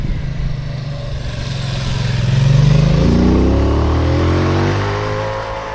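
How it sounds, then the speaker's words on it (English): A Norton Atlas 585cc motorcycle ridden on back roads, its engine note swelling as the revs climb to a loud peak midway and then easing off again, with wind rush underneath and no talking. "I've forgot the fact that I'm on a 585cc motorcycle"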